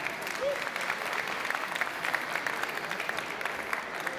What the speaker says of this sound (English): Can we have an applause for Amiran, please?